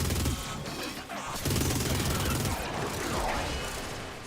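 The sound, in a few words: minigun firing in full automatic mode, from the video game Warframe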